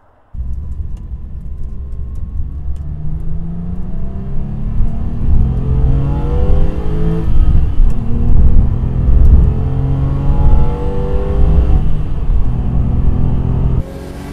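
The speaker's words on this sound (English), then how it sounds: "I finally bought the Porsche that I've been wanting. This is a 997 Carrera S." A 2006 Porsche 911 Carrera S 997 accelerating on the road, its engine revving loudly and rising through the gears under steady cabin rumble, heard up close from inside the car with no talking.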